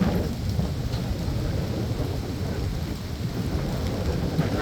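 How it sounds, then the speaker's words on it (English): Heavy rain and gusting wind roar steadily outdoors as an incoming thunderstorm arrives, a dense, loud, continuous wash with low rumbling underneath and no voices. "And the wind, here it comes."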